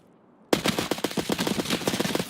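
A rapid, even burst of gunfire in Escape from Tarkov: roughly a dozen sharp shots fired close in quick succession right after a moment of near silence.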